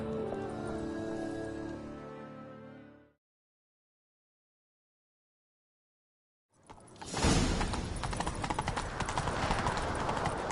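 Horse hooves clatter in a fast, busy gallop with a whooshing rush in the video game The Witcher 3. Music plays first, then a few seconds of silence before the hoofbeats burst in loudly.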